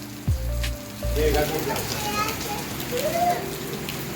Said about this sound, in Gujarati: વરસાદ આવી રહ્યો છે.